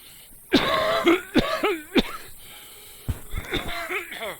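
Several harsh, close coughs and throat-clearing bursts in quick succession, then a pause before another rougher cluster of coughing.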